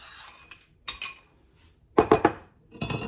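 Cornstarch slurry is stirred into roast beef gravy in a pot, heard as a few bright spoon clinks and scrapes against the metal in short bursts with quiet gaps between.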